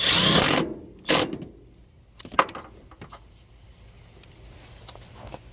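A power tool bursts on briefly twice, tightening bolts on a Nissan car engine during a belt tensioner replacement, followed by faint metallic clinks and handling noise.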